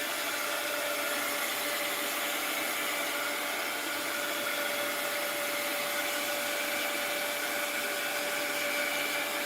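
A hair dryer blows steadily for several seconds, drying wet marigold paper in a mixed-media art journal, a constant airy whir with a faint tonal hum and no talking.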